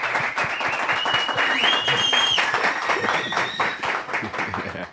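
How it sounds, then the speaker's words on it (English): An in-house audience at the Simbine Classic athletics meet gives a round of applause, steady clapping under a talking announcer, with a few whistles rising above. "Can we get a round of applause from everybody who's in-house?"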